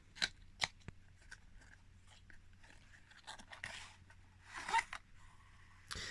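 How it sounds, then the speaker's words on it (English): A cardboard collector's box holding a Corgi Aston Martin DB5 replica model is pried open, making a few soft scratchy rustles and crackling taps spread over several seconds in a quiet room. "So if we crack it open, it's tricky to do without ripping the box."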